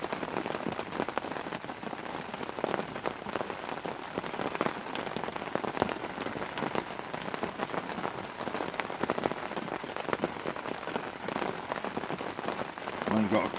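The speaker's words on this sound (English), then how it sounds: "it's persistently raining at the moment." Persistent rain falls outside, a steady dense patter of drops drumming on surfaces throughout, moderately loud with no talk over it.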